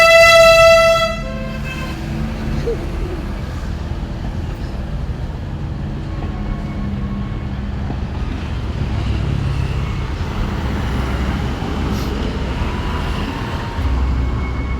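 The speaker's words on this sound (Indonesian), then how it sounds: "Nah, ini datang kereta apinya." Ambarawa–Tuntang tourist train sounds a loud, sustained horn blast as it arrives, followed by a steady rumble of the approaching train that swells and holds for many seconds.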